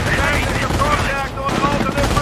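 Machine gun fire in a Company of Heroes battle during Operation Market Garden, a dense continuous rattle of rapid shots running the full length, with voices talking over it.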